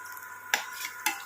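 Potato fritters (aloo bora) fry in a pan as a faint, steady sizzle, and two sharp metallic clinks of a utensil against the pan break through it.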